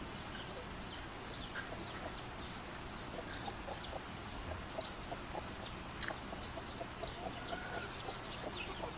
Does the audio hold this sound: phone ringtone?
no